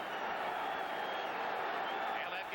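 Stadium crowd roaring after a quarterback sack at an NFL Miami Dolphins at New York Jets game, a dense, sustained wash of cheering with a commentator talking over it.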